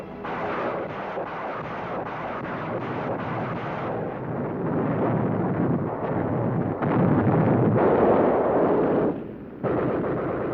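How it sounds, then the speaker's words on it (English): Rocket launcher barrage on a town: a dense, rolling roar of distant explosions and artillery rumble, continuous and blurred together, with a short lull before it resumes. "Our rocket launchers helped soften them up."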